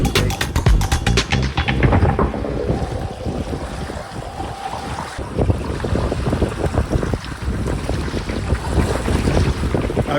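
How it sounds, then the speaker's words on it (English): Strong wind buffets the microphone in loud, continuous gusts at a public lake, with rough rumbling and water sloshing underneath throughout. "Too windy at the moment,"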